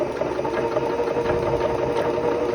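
A sewing machine quilting fabric runs steadily, a close, continuous mechanical whir with a fast stitching rhythm and no pauses.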